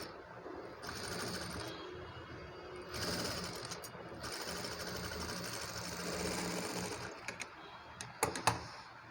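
An electric sewing machine stitches a frilled long frock in bursts, whirring runs separated by short pauses, ending with a few clicks and taps, close and fairly quiet.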